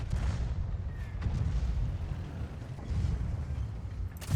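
Tank cannon fire in the World of Tanks game from a T-50 session: a continuous low, booming rumble of battle sound, with heavy dull thumps rising around the second and third seconds, no talking.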